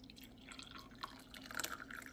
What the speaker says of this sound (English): let's pour some hot liquid in these and give it a try